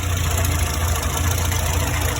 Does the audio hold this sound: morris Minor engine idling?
yes